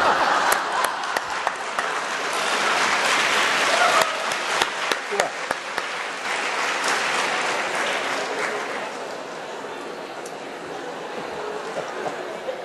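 An audience at a lecture on new crime categories and mediation breaks into sustained applause, dense and fairly close, swelling early and then gradually thinning out over about twelve seconds.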